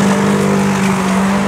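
Off-road UAZ engine revving steadily and loudly on a hard-terrain off-road run, a continuous close drone with a strong low hum and no talk over it.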